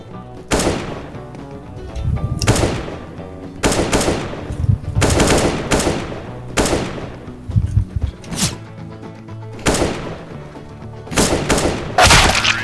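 Rapid automatic rifle bursts and heavy single sniper shots from CS:GO, AK-47 and AWP, loud and close, repeating in sharp volleys roughly every second or two with brief gaps between.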